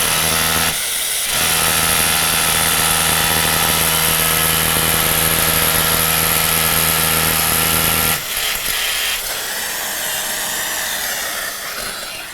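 A Festool power drill runs loud and steady as it bores into a ceiling, with a high whine for about eight seconds before it drops and continues in a rougher, quieter run.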